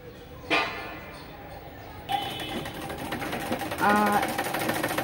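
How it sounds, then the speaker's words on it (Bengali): A sewing machine stitching fabric for a one-part niqab, its rapid, even needle chatter starting after a short pause and running on steadily, close up and alone. "বেল্টের উপরে এখান থেকে সেলাই দিতে থাকবো"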